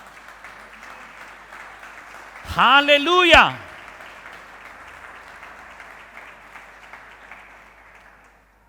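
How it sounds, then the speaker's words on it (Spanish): A church congregation claps loudly and continuously for the King during a sermon, with one voice shouting a loud exclamation over the clapping partway through before the applause settles back. "den un fuerte aplauso al Rey"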